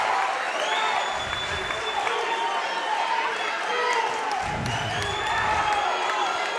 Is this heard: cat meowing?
no